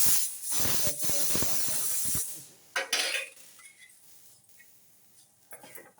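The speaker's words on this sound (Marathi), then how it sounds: "आपण त्याच्यात वाफ काढून घेणार आहे" A loud burst of hissing steam released from a pressure cooker of moth beans for about two seconds, then quieter intermittent hisses and faint rustling.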